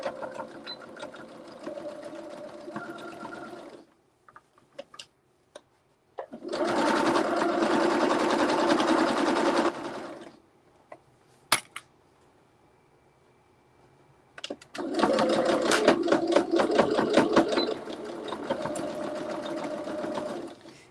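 A sewing machine runs a zigzag stitch in several bursts of steady mechanical whirring and rapid ticking, separated by pauses with faint clicks, close and clear.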